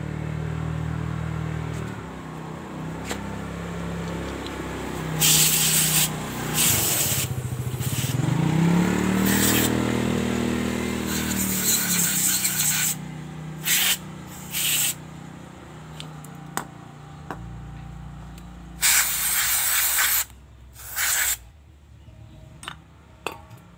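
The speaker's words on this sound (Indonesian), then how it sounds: "kita semprot dulu dengan cleaner biar bersih" Cleaner sprayed onto a part of a Honda Megapro motorcycle being serviced for a fault where the engine dies at full throttle: several short hissing spray bursts, some clinks and scraping between them, and a low hum beneath.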